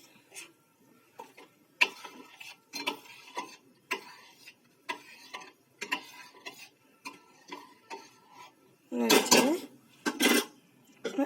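A spoon scrapes and clinks around a pot as raisins are stirred into thick date-jaggery payesh, with irregular ticking knocks throughout and a louder burst of clattering near the end.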